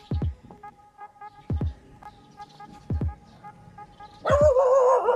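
Several dogs bark in short separate bursts, some near and some farther off, over a steady low hum, before a louder whining, yelping outburst at the end.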